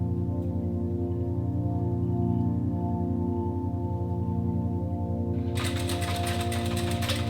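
A sewing machine stitches a Christmas stocking quilt block with a steady, rapid mechanical whir that runs evenly throughout, joined near the end by a brighter clattering rattle.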